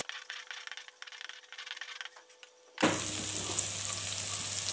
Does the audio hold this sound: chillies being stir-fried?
yes